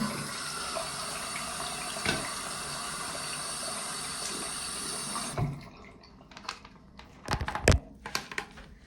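Tap water pours steadily into a sink to soak paint off during a dorm clean-up, a continuous broadband rush for about five seconds, then it stops and a few brief clattering knocks follow.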